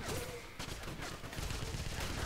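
Gunfire in the Wolfenstein video game, a dense, noisy barrage of shots and blasts filling the whole clip, loud and continuous with a voice briefly over it.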